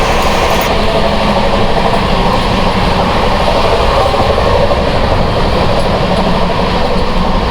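Sealdah to Banaras Duronto Express (12259) racing at high speed, a loud, steady roar of wheels and rushing air with faint rhythmic rail clatter running throughout, heard close and alone.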